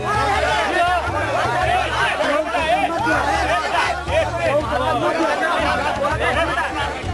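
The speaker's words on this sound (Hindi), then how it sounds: "लोगों की भीड़ है" Dense crowd chatter at Amethi Palace, a steady, loud hubbub of many overlapping voices with no single speaker standing out, continuous throughout.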